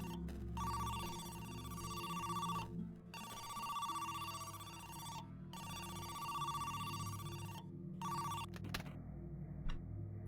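In the ARG video game Who's Lila?, a telephone rings repeatedly in steady electronic bursts with short gaps between rings, clear and alone.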